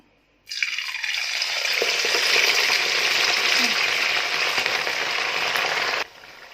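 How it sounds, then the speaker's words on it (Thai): Pork sizzling loudly in a hot pan, a steady crackling hiss that starts abruptly and continues for several seconds before cutting off. "ตั้งกระทะให้ร้อนนะคะ ก็ทำการทอด"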